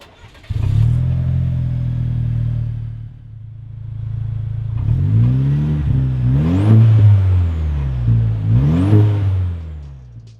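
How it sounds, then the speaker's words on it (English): A Chevrolet Colorado ZR2 pickup with a MagnaFlow Overland Series catback exhaust starts up and settles into a deep, steady idle, then is revved twice in loud, rising bursts that fall back to idle. "our friends from MagnaFlow helped us out with their Overland Series catback exhaust system"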